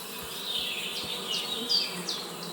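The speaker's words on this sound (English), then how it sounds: "I hear bees." Bees buzz in Kingdom Come: Deliverance II, a steady insect drone with several wavering, swelling passes as individual bees drift close and away, fairly loud with no talk over it.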